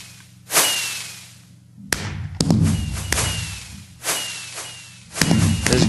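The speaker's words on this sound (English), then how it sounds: "many of the dispensers fired different fireworks the second time" Minecraft fireworks launching from a bank of dispensers in version 1.4.6, a series of loud whooshing bursts with thumps arriving in several waves about a second apart, each launch trailing off into a hiss.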